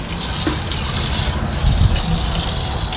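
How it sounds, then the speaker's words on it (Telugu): Water pours steadily into a home aquarium being refilled after cleaning, a loud continuous gushing rush with small surges, close by and without talk. "అందుకని నేను అక్కడి వరకే నీళ్ళు పోస్తాను"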